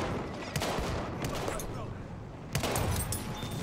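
Rapid gunfire and explosions in Battlefield 1, a dense noisy fusillade with sharp bursts, a louder blast near the end, and faint voices underneath.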